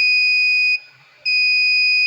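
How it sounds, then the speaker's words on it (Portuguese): The buzzer of a test alarm device in a lab sounds as a loud, steady, piercing electronic tone that cuts out briefly and then resumes. "o buzzer tocando."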